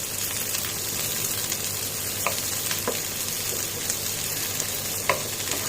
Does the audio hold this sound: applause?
no